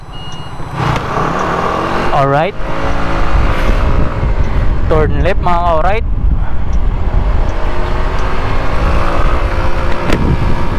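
Busy city traffic surrounds a scooter rider in Taipei, Taiwan, with steady road roar, passing vehicles and several bursts of warbling beeps or horns, while someone talks briefly over the din.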